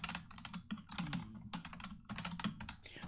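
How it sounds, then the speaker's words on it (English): Fast, uneven clatter of keys on a computer keyboard, close and distinct, with short bursts of typing separated by brief pauses and no talk over it. "Jerry, your typing is so loud."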